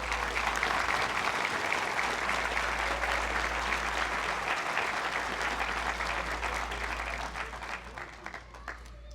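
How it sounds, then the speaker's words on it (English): Sustained applause for a graduating police academy class, many hands clapping loudly and evenly in a large hall, thinning and fading over the last couple of seconds. "Please give a big round of applause for Class 226 and everyone that made it possible."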